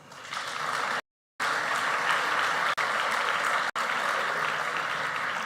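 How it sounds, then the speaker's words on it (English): Audience applause for a choir at the launch of the 2024 National and Provincial Elections, a loud sustained wash of many hands clapping, broken by a brief dropout and two tiny cuts. "A round of applause."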